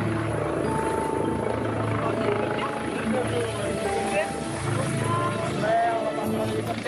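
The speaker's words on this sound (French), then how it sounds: "Là, les hélicoptères sont par là." A helicopter's rotor drone throbs steadily in the background while people chat nearby, the engine noise constant throughout.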